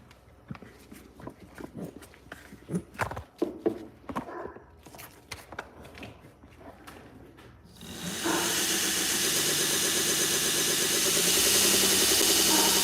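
A knife sharpening machine spins up at 8 seconds and holds a loud, steady whir near 2,000 RPM. Before that come intermittent knocks and handling noises.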